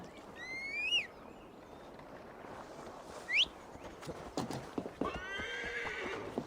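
A horse in a video game neighs twice in high whinnies, followed by clip-clopping hooves, against a quiet outdoor background with faint ambience.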